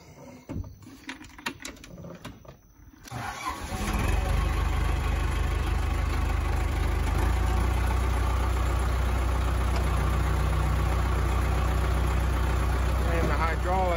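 An Allis-Chalmers 6080 farm tractor engine is started, catching after a few seconds of clatter and settling into a loud, steady low idle that runs to the end; a voice is heard during the startup.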